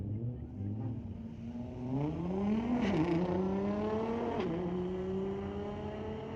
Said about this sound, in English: Nice sounding ride, that Nissan GTR.